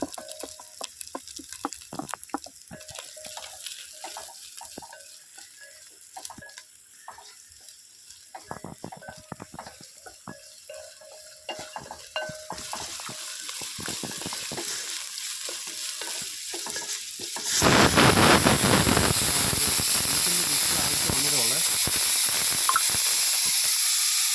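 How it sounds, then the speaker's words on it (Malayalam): Garlic and ginger sauté in a pan with coconut pieces for a beef curry, first with scattered crackles and stirring clicks, then erupting into a loud, steady sizzle as they hit the hot oil. "വെളുത്തുള്ളി, ഇഞ്ചി ചേർത്ത് ഒന്നുകൂടെ വരട്ടിയെടുക്കാം."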